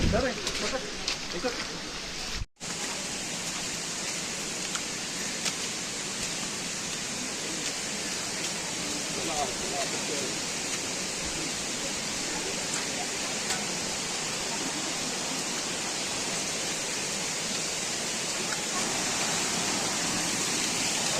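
A waterfall along the Brahmagiri mountain trail near Trimbak fills the air with a constant hissing rush that stays even throughout, apart from a brief dropout near the start.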